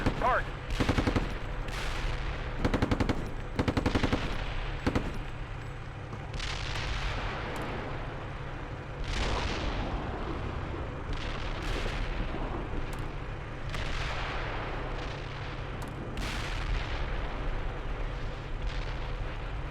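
Military video game combat with bursts of machine gun fire and deep artillery booms, loud close volleys early then a dense rumble of distant blasts and rolling fire; a voice is heard briefly.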